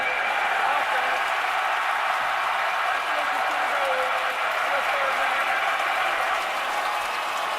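Roaring stadium crowd at a night college football game between Florida State and Clemson, a dense, steady wall of cheering and noise that stays loud the whole time.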